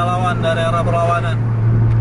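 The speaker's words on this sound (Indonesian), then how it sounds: "Suara mesinnya masih santai sekarang." A bus engine idles calmly on a road after crossing a bridge onto a straight stretch, a steady low drone running throughout, partly under faint background talk.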